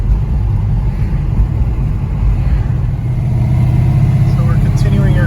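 A 1965 Plymouth Belvedere with an automatic transmission cruises along, its engine a steady low rumble with road noise, heard from inside the car at a constant, fairly loud level.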